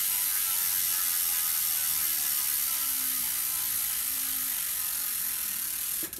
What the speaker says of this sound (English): I have an Origin 8 cycling freewheel